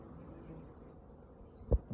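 Honey bees from a small swarm in a poly nuc in an apiary, a faint, low, continuous buzzing close by with no talk and a single brief knock near the end.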